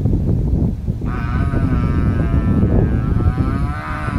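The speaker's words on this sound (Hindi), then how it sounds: "देख लो कितनी चिल्लाती है यार ये भैंस।" A female buffalo calls out with a long, loud bellowing cry over a steady background rumble of engine noise.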